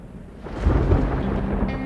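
A deep rolling rumble of storm thunder from a movie trailer, swelling after a quiet start and holding loud and close for under two seconds, no talking.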